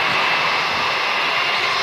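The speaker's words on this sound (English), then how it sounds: "I know I'm talking over the plane, guys." An aircraft engine roars loudly and steadily at Manchester Airport, a constant, close jet-engine rush filling the whole moment without pause.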